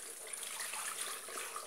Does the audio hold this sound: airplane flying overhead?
no